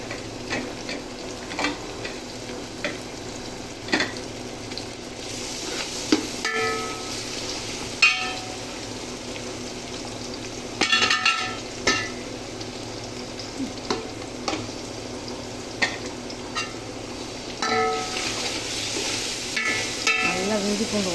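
Ginger, garlic and salt sauté in a biryani pot, a continuous close sizzle broken by frequent scraping stirs and light metallic clinks of a spoon against the pan over about twenty seconds, with no speech.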